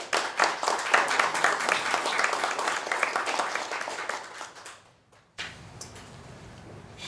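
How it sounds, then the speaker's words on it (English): A board of directors meeting room breaks into applause for a newly welcomed board member, a steady patter of clapping hands that fades out, then falls into near silence with faint room noise. "How about a big round of applause for our newest board member?"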